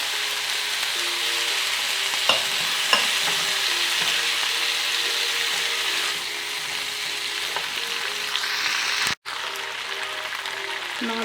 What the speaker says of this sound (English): Now we add the orange juice.